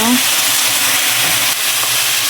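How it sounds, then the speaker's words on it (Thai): Pork stir-frying in a hot pan for Thai basil pork stir-fry, a loud, close, unbroken sizzle that runs through the whole short stretch. "เอาหมูลงมาผัดก่อนเลย นี่เลยจากขั้นตอนแรกของเรานะจ๊ะทุกคนให ้หมูสุกก่อนนะคะ"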